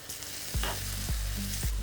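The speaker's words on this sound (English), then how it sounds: "Onion has started to saute well." Onion sautés with turmeric powder in a hot pan for a purple cabbage stir fry, giving a loud, close, continuous sizzle broken by three regularly spaced stirring scrapes. There is no speech.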